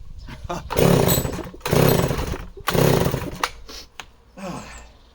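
A chainsaw that may be flooded is pulled over repeatedly, with three or four loud rasping cranks in a row. The engine sputters briefly without catching and falls quiet between pulls.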